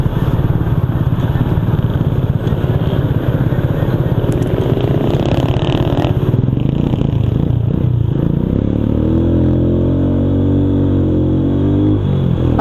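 A motorcycle engine revs loud and close, rough and throbbing at first, then settling into a lower rising-and-falling drone toward the end.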